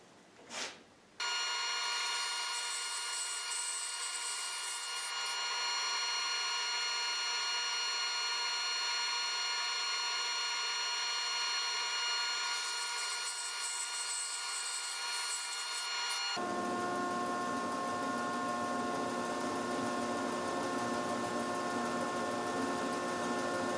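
A saw cuts steadily through a log held on a prototype Accu-Sled log fence sled. The cut is a continuous, fairly loud grinding whine with no talk, and its tone shifts partway through.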